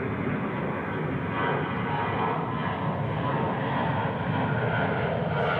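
A jet airliner taking off from a runway at DFW International Airport, its engine roar steady, broad and loud throughout with no pauses and no talk.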